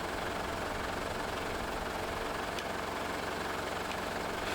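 A tractor engine idles steadily while hitched to a tree planter for shelterbelt planting, a continuous low rumble with broad noisy hiss that holds even throughout, fairly distant with no voices.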